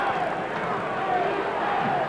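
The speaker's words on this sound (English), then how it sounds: "they're simply chanting "Coo,"" Basketball arena crowd at a 1980 NBA Finals game chanting a drawn-out "Coo" for Cooper, a sustained low roar of many voices with a commentator talking over it.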